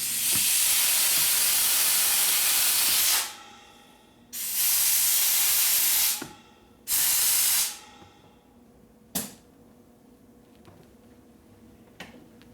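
Oil sprays from an oil line on an S&S 93ci Evo motorcycle engine that has no oil pressure. A long, loud, airy hiss cuts off, then returns in two shorter bursts, followed by a few faint pops.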